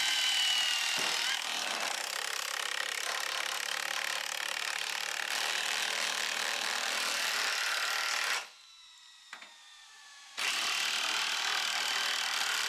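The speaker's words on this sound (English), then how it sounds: "drill our spike holes in our switch ties" A power drill grinds steadily into wooden railroad switch ties, boring spike holes, a loud continuous whirring that stops briefly near the end, then starts up again.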